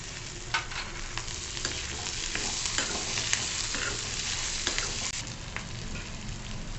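Coriander and tomato sautéed in a spiced oil tempering for bread upma give a steady, dense sizzle, with spoon scrapes through the frying, loud and near.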